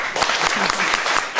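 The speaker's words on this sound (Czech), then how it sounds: "zkuste potlesk" Audience applause at a storytelling event, a brief burst of steady, fairly loud clapping from a gathered crowd, continuous across the moment.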